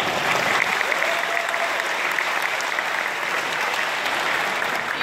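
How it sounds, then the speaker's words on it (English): Sustained applause from a graduating high school class of 2016 at a commencement ceremony, a dense, steady wash of many hands clapping at even loudness throughout, with no voices standing out. "Give yourselves another round of applause"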